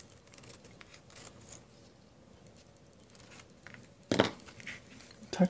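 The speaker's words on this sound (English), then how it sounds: "I just cut a piece of the doily" Scissors cut a piece of paper doily for a handmade sympathy card: quiet rustling, then two short crisp snips close by, one near the end.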